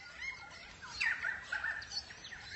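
Crimson rosella parrots calling in a forest during breeding season, a few bright chirping, whistled calls clustered in the middle of the stretch over a quiet background, moderately close.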